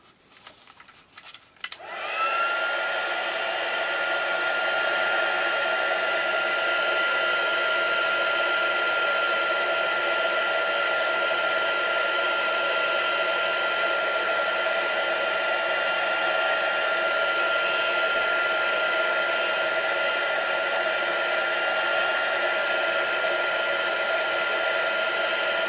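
A hair dryer runs steadily and loudly for about 25 seconds, blowing on modeling paste to dry a textured surface, with a brief rustle at the start before it switches on.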